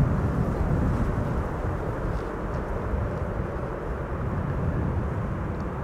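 A Boeing 747 airliner passing overhead gives a steady, loud, broad low roar that fills the whole stretch with little change in level, and wind rumble is mixed in.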